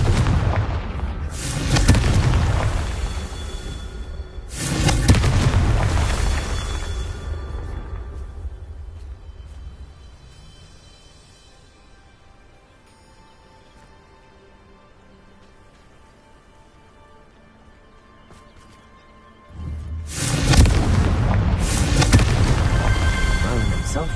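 Explosive Confringo spell blasts go off in the video game Hogwarts Legacy, with several loud booming bursts that each decay into rumbling noise. A quieter stretch falls between them before a final heavy blast.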